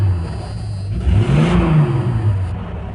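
A 1989 Jeep Cherokee engine revs up from idle, rising in a smooth swell to a peak and easing back, close and loud with no talk.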